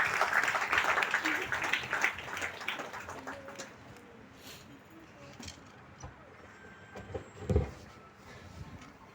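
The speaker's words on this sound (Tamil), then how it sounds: "ஆலை தலைவர் திரு விநாயகமூர்த்தி சார் அவர்களை உங்களின் பலத்த கரகோஷத்தோடு துவக்க உரையாற்ற அன்போடு அழைக்கின்றேன்." An audience at a road safety awareness event at a cement plant claps to welcome the plant head, a burst of applause that fades to scattered claps and background noise.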